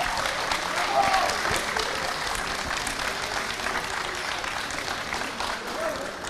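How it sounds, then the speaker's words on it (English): Steady audience applause at a Polish indoor karting championship, sustained broadband clapping filling the space for several seconds with a faint whistle or cheer early on, fairly distant and reverberant. "maybe applause for the drivers"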